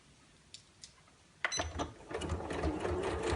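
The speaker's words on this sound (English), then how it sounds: "I'm just going to move the needle position over on my machine" A sewing machine stitching layers of patchwork fabric and batting for a coin purse, starting after a couple of faint clicks with a steady, close mechanical whirring run.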